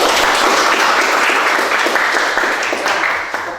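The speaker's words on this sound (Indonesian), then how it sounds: "Tepuk tangan untuk kita semua." A college class at STKIP Persada applauds, with dense continuous clapping from a roomful of students that holds steady and then tapers slightly at the end.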